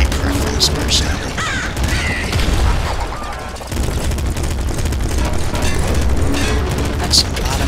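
Missile explosions in Nuclear Throne, a loud, continuous barrage of booms and crackling blasts over several seconds with a brief dip midway, dense and chaotic.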